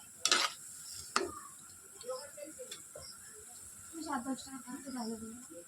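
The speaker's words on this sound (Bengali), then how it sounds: "চলো, একটু ভালো করে নাড়া দিয়ে নিই।" Lentil fritters fry in a pan at a street stall, a soft crackle running under brief clanks and a few spoon scrapes, with two sharp knocks near the start and a voice talking in between.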